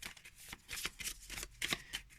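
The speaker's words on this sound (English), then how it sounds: "Let's try shuffling this way." A deck of matte-finish tarot cards is shuffled by hand in short riffling bursts, soft and close, with brief pauses between the crisp flutters.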